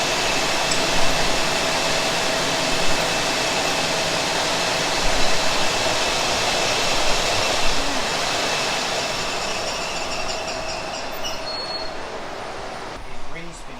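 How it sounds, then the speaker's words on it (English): A ring spinning machine spins yarn at the Nundle Woollen Mill, giving a loud, dense, continuous mechanical whir and rattle with no pauses throughout. "Is ring spinning because this is being spun around a ring. Spindle is going up and down, so it fills the spindle evenly."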